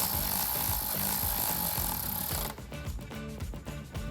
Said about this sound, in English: take my 7mm on my electric ratchet